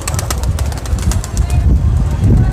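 A pigeon takes off straight upward, wings flapping in quick bursts close by, amid ongoing bird noise and outdoor rumble.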